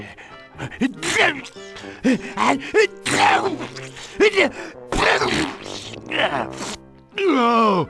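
A cartoon character sneezes in the adventure game Toonstruck, a loud nasal burst coming at the close of theatrical voiced lines, amid groans and exclamations.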